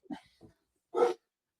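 Puppies stirring and making noise: a few short whimpers and yips followed by a louder bark-like yelp, close and brief with silence between.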